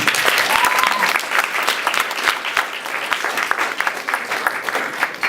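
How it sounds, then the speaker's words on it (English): An audience claps steadily, a dense wash of applause from a crowd, loud and continuous with a few scattered cheers. "can we please give a round of applause to the Dream Team and what they do here today?"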